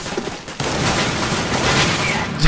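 Gunfire in the video game CS:GO, Arms Race mode: a dense, sustained burst of loud shooting that fills most of the clip after a brief quieter start, ending on a sharper blast.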